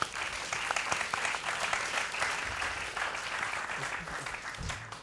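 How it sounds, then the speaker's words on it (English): Festival audience applauding its panel presenters, steady dense clapping from a crowd held at an even level for the whole stretch, with no talk over it. "So a round of applause for our presenters."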